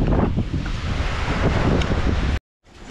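Strong northeast monsoon wind blowing outdoors on an island, a loud, continuous roar buffeting the microphone up close before cutting out abruptly.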